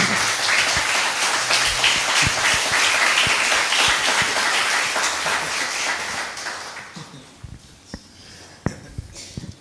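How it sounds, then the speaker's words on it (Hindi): Audience applause builds into a dense, loud wash of clapping, then thins out toward the end, leaving a few scattered, isolated claps. "इनको भी पता चल रहा होगा कि तालियों की आवाज बढ़ी कब।"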